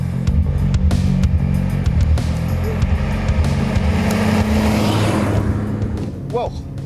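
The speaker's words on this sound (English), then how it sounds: "Here we are chugging along in our little 1-litre Seat Arosa" A small 1-litre Seat Arosa driving along, its low engine drone steady and close under an interior rumble, with a voice talking over it.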